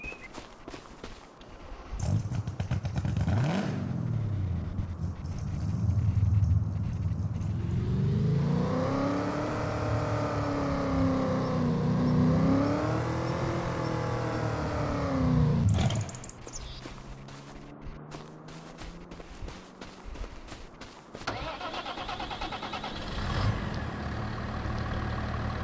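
Truck engine in Farming Simulator 25, a steady motor drone that rises and falls in pitch as it drives and revs, loud and close, with the load easing off midway and idling rumble continuing alone.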